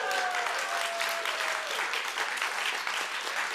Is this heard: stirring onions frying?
no